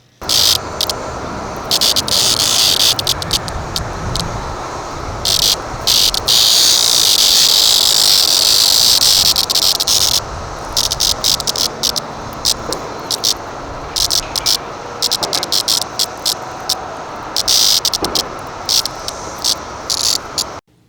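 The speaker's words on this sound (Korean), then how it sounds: "첫 번째 매미가 우는 소리입니다." A 17-year periodical cicada held in the hand gives a loud, steady buzzing drone, very close, sustained for the whole stretch with brief stutters and dips in intensity.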